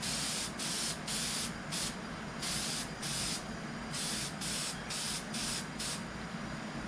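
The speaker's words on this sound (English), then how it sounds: "Test spray." An aerosol can sprays a test coat onto a headlight lens in repeated short bursts, a loud close hiss cutting on and off in an uneven rhythm with no voices.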